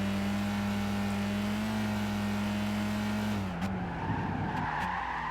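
A race car in Gran Turismo 5 holds a steady engine drone, then brakes hard into a skid with tire squeal and scrabbling noise near the end, heard alone without talk.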